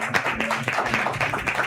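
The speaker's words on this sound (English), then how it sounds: "Please clap for yourselves." An audience at a live event claps briefly, a short burst of scattered hand claps mixed with a voice speaking over it.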